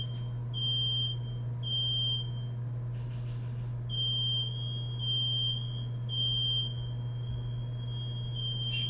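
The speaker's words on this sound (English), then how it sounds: "How do I turn off the smoke alarm?" A smoke alarm sounds short, shrill electronic beeps in a repeating rhythm, about one every 1.5 seconds with a short gap, over a steady low household hum and no voices.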